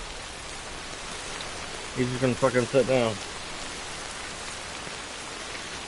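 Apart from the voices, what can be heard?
rain falling in a video game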